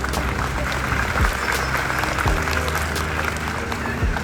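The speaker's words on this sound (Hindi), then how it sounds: "अगर ठीक है तो ताली बजाइए।" Crowd at a cultural group event in Ankaleshwar claps together in a sustained, fairly loud burst, with low thumps and some background voices mixed in.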